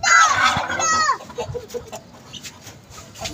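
Farm hens cluck loudly and close for about a second, followed by quieter scattered clucks and rustling as the birds settle.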